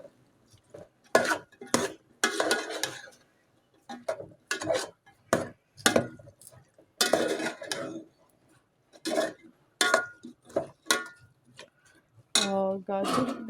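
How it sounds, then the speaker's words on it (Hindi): A spoon scrapes and clatters as peas and carrots are stirred in a metal cooking pot, giving repeated short bursts of scraping and knocking under someone talking. "अब हम गाजर डाल के चलाएंगे।"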